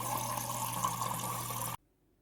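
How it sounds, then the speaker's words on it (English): Water from a Samsung refrigerator's door dispenser pours into a glass in a steady, close rushing stream, then cuts off abruptly near the end. "I think if you see this water all around going after I fill up the glass"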